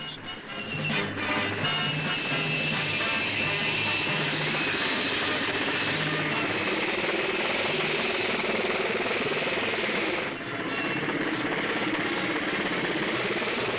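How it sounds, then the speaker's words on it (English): A Sky Crane heavy-lift helicopter, one of the largest in the world, flying with a steady loud droning engine and rotor roar that holds nearly constant and dips briefly near the end. "The largest helicopter in the world."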